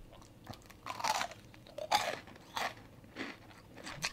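Someone chews crunchy, batter-heavy Popeyes fried chicken up close, producing a series of loud, crackly bites and crunches in an irregular rhythm with short pauses between them.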